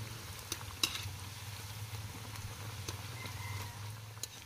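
Okoy fritters made with kamansi fry in hot oil after being flipped, giving a continuous crackling sizzle with scattered sharper pops and taps from the pan.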